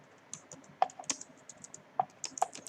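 Typing on a computer keyboard, with light, irregular key clicks close by and a few louder taps standing out.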